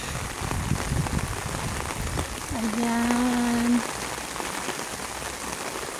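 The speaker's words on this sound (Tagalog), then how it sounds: "super yung ulan" Heavy rain pouring steadily outdoors, a dense continuous hiss of drops hitting surfaces, with a brief voiced sound partway through.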